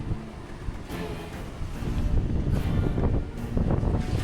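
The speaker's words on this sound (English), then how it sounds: "Because it's such a big crosswind" Strong crosswind buffets the microphone aboard a sailboat at sea with the genoa furled in, a loud rough roar growing stronger with water wash beneath, no voices.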